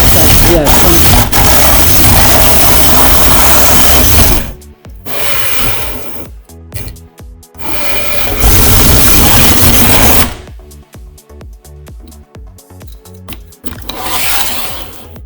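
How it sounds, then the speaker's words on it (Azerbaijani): Loud whirring of robot motors spinning at high speed in bursts, stopping and starting with short mechanical clicks and pauses between runs. "hər bir motor maksimum sürətlə fırlanır"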